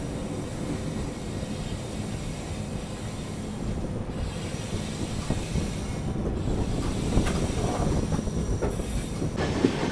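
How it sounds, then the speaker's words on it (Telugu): The Janmabhoomi superfast express from Lingampalli to Visakhapatnam departs, giving a continuous rumble with wheel squeal and faint clickety-clack that builds slightly, with no talk over it. "సో మన ట్రైన్ డిపార్ట్ అయిపోయింది, ఎక్కేద్దాం లోపలికి."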